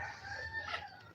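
A rooster crows once, faint and distant, on a chicken farm over a low background hum.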